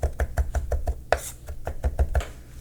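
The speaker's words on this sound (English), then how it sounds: "Look how far you're chopping. You're on the board in front of you" A knife chops fresh herbs on a cutting board in a quick, steady rhythm of about a dozen crisp, close strikes, with faint background sound between cuts.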